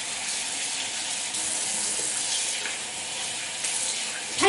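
Tap water runs steadily into a sink while someone rinses their face, a continuous close hiss that splashes faintly near the end.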